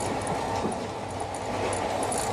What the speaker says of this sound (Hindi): ट्रेन अभी अधिक समय सुरंगों से होकर ही जा रही है